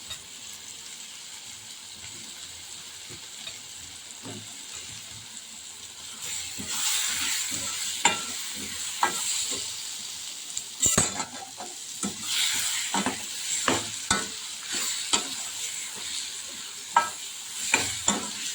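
Cut raw mango pieces stirred and frying in a pan, starting as a quiet sizzle, then growing louder with sharp scraping and clattering strokes against the pan.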